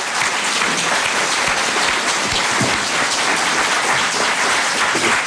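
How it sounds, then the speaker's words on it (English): Audience at a state senate district debate forum in Manning, South Carolina bursts into sustained applause, dense steady clapping that fills the whole stretch without a break. "let's give them all a round of applause"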